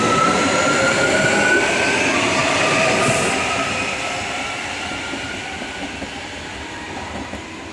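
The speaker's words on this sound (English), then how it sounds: "Belair line train is now going over the Goodwood Junction rail underpass." A Belair line passenger train rumbles past over the Goodwood Junction rail underpass in Adelaide with steady broadband roar and faint wheel clatter, loud at first and gradually fading as it moves away.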